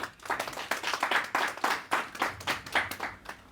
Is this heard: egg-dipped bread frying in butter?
no